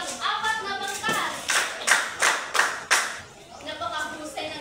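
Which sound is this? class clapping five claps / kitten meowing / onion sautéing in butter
class clapping five claps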